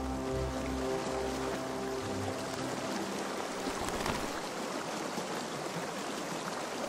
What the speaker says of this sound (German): Im Frühling werden die Bäche von der Schneeschmelze regelrecht geflutet.